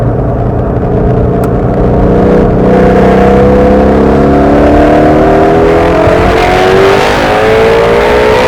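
A Ford Shelby GT350 Mustang drives a winding road, its engine loud and close from inside, revving steadily with pitch climbing and falling as it works through the bends, no talk.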